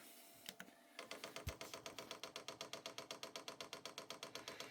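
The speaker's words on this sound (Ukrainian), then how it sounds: "Це в нас працює паливний насос примусово і е, буде в нас 60 імпульсів" A Powermat PM-AG-8M3 diesel air heater's fuel pump is forced to prime, giving a steady, rapid train of sharp mechanical ticks at a regular rhythm that starts after a few scattered clicks and continues throughout, close and clear.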